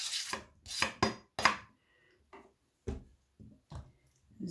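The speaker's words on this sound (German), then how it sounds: "Das müssen wir alles jetzt schneiden." A knife chops vegetables on a cutting board for a Chinese cabbage salad, with quick bursts of close, crisp strokes followed by a few slower, scattered cuts and short pauses, with no voices.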